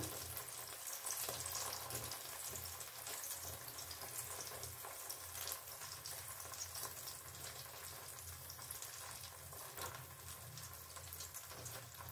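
Saruchakli pithe batter fries in a pan, giving a steady, dense hiss of oil that runs evenly throughout with little variation, close and fairly loud, with a low hum underneath.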